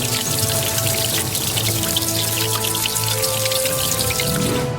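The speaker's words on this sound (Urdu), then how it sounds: "پانی کے بہنے کی آواز،" Continuous water sound, like steady rain or a trickling stream, with dense patter and drips filling the whole stretch at an even, fairly loud level, with no talk.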